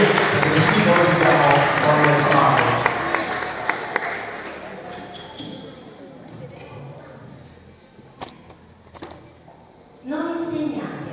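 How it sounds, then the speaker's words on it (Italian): Audience applause at a concert in Noci, a broad clapping wash that is loud at first and then thins and fades, with scattered claps and voices near the end. "Fatti dedicare un altro applauso."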